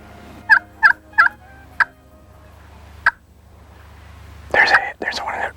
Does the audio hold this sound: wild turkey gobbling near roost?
yes